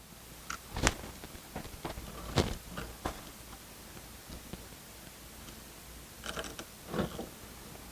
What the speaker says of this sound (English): now we'll screw these screws into the box, top and bottom